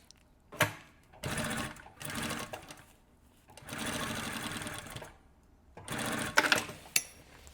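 A sewing machine stitches an inner seam in several steady mechanical whirring bursts of about a second each, separated by short pauses, close by with no talking.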